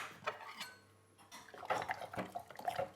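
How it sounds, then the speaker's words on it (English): A spoon clinks and scrapes inside a teapot of tea, a few light metallic taps and swirls at close range, fairly quiet. "give that tea a little stir"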